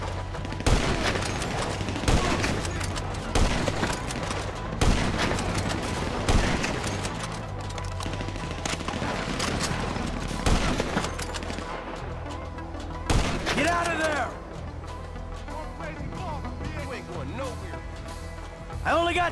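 Heavy gunfire rattles through a Grand Theft Auto V firefight, with dense volleys, automatic bursts and occasional booms, while voices talk and shout throughout.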